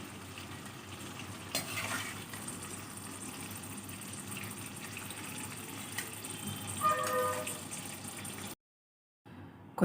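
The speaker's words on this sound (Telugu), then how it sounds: "పండుమిర్చి ఇలా ఫ్రై చేసుకుంటే సరిపోతుంది" Ripe red chillies fry in oil with a steady sizzle while being stirred, with occasional utensil scrapes and clinks against the pan, ending in a sudden cut to silence.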